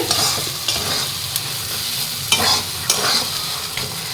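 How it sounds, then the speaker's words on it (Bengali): Taro flowers and prawns sautéing in a pan, a steady broadband sizzle with repeated scraping stirs of the spatula at irregular intervals, close and fairly loud, no voices. "আমি হাতে সময় নিয়ে কচুর ফুলটা তাহলে কষাতে থাকি"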